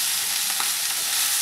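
Pine nuts fry in hot olive oil in a pan, giving a steady, loud sizzle with a broad hiss that goes on without a break. No voices are heard.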